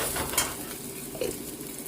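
Onion flowers fry in hot oil in a pan, giving a steady close sizzle with a couple of brief metallic clinks from stirring.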